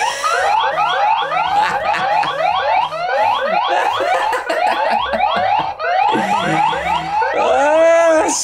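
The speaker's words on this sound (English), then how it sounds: "It has a tamper alarm too, so if this thing is removed unexpectedly from the wall, you'll know about it, and so will your burglar." The tamper alarm of an Aqara G4 video doorbell blares loudly and close, a rapid repeating series of rising electronic whoops that shifts into swooping warbling tones toward the end, continuous and alone.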